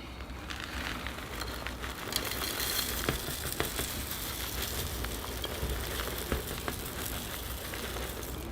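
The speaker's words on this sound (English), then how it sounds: "I'll get a base layer of soil in the pot" Loose potting soil pours and trickles steadily into a bonsai pot lined with window screen, a dense close granular hiss with small scattered pattering grains and no talking.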